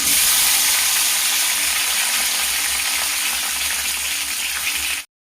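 Chopped tomatoes fry in half a tablespoon of oil in a pan, a loud, close, steady sizzle and hiss that runs on without a break and then stops abruptly.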